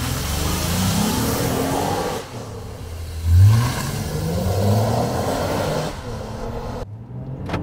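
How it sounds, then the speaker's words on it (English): Honda Ridgeline HPD pickup with its J35 V6 and ZF nine-speed accelerating hard from a launch, a steady loud engine roar rising in pitch with a brief surge near the middle, then cutting off abruptly near the end. "It is time to launch it and see what that J35 is all about."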